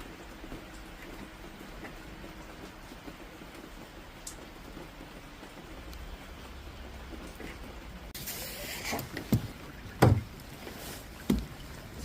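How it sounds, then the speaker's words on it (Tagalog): Steady rain hisses softly around a small boat outdoors in early autumn, with a few louder knocks and splashes near the end. "Yun yung umulan oh"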